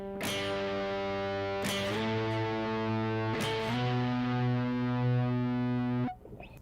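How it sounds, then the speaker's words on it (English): An electric guitar played with a distortion effect in a lesson, loud sustained chords that change twice, ringing thickly and then cutting off abruptly. "you can add distortion"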